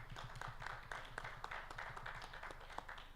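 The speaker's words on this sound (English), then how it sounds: "can we clap our hands" An audience at a financial markets forum in Africa claps hands together in a steady rhythmic beat, a continuous patter of many hands sounding somewhat distant and faint in a large hall.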